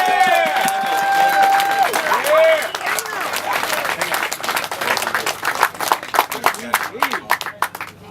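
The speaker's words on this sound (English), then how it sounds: "give an applause for Daniel Shen" An audience applauds Daniel Shen with a dense, sustained burst of clapping and some cheering that thins into scattered individual claps toward the end, while voices carry over the top.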